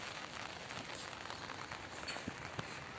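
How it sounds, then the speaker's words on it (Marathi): Steady monsoon rain patters softly on surfaces in a village, a constant faint hiss with occasional louder drops, and no voices. "आमच्याकडे तर भरपूर पाऊस आहे"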